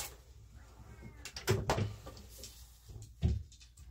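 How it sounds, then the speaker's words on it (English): A house cat gives a faint, drawn-out meow indoors, mixed with a few knocks and thumps like a cupboard or door closing nearby. No one speaks. "So the cat is in."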